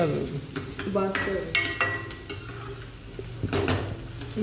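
Curry leaves fry in hot oil in a kadhai with a soft sizzle, while a spoon scrapes and clinks against the pan as they are stirred.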